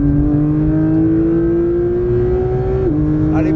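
A Porsche 911 GT3 on a race track, its engine holding a loud, steady high-pitched wail that climbs gradually and then dips briefly as it shifts, heard close and continuous with no talking.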